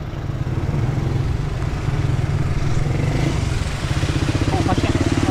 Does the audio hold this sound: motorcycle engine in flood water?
yes